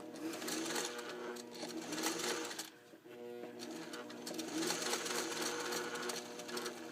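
A sewing machine runs in fast, steady bursts while stitching a fussy-cut quilt block, pausing briefly midway before whirring on again, close and fairly loud.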